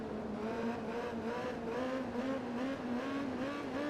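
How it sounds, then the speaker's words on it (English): A race motorcycle engine in the MotoGP 15 video game revs at Mugello, holding a high sustained whine that wavers in pitch mid-corner, loud and continuous with no talk. "A bit of a revving situation mid-corner just so I didn't lose too much acceleration off the corner"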